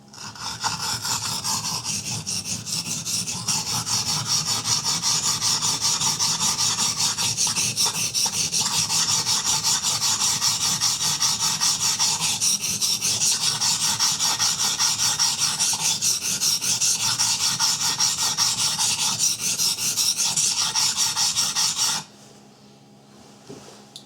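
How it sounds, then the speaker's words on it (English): Steady, continuous rasping grind of a knife edge worked on a 150 grit green carbide sharpening stone during reprofiling, close and even for over twenty seconds before stopping abruptly. "I always like to start with this stone, 150 grit green carbide stone."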